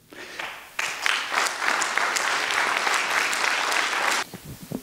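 Audience in Switzerland greets a speaker with a burst of clapping that starts abruptly, holds steady and fairly loud for about three seconds, then cuts off into quiet.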